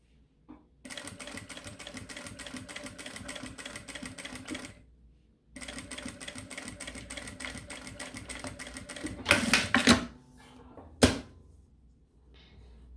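A sewing machine stitches a mini backpack handle strap in two steady runs of about four seconds each, separated by a short pause, followed by a few sharp clicks and clatters of handling.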